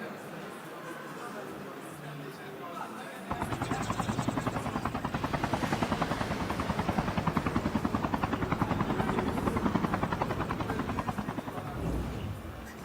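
A helicopter in a Call of Duty match at a university esports league, a steady rotor-blade thrum and engine whine starting abruptly and holding loud and close, with faint background talk early on.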